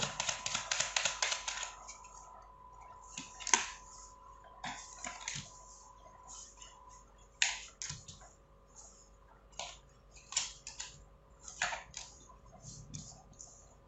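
A deck of tarot cards is shuffled close by, with a fast flurry of crisp riffling at first, then scattered light slaps and ticks of cards being cut and drawn.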